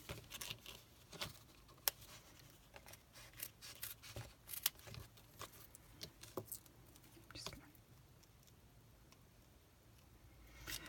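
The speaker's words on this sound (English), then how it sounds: "cut it a bit finer than that because it's only a thin bit" Scissors snipping through thin glimmer paper for a papercraft advent box, quiet crisp clicks and paper rustle in an irregular rhythm, close by with no talking.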